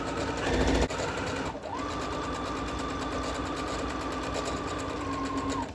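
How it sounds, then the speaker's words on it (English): A sewing machine runs a steady, continuous stitch along a tote bag seam after a brief pause and restart, close and even with no talk. "put your presser foot back down, and then sew all the way down that side"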